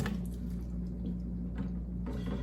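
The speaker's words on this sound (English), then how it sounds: "I'm gonna pour the vegetables in there" Blanched vegetables are poured from a pot into a bucket of ice water, making a steady wet splashing and squishing rush with soft dripping, close and continuous for a couple of seconds.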